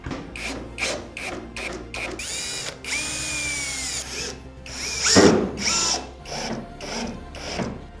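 A power drill drives screws into a tiny house roof in repeated short bursts, each whine rising and stopping, with one longer run and clattering handling noise in between, close and loud.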